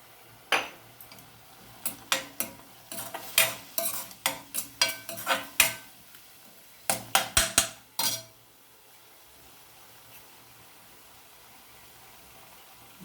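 Ginger garlic paste being stirred in a frying pan for an eggless egg curry, with a run of sharp utensil scrapes and clinks against the pan, loud and close, then quiet after about eight seconds.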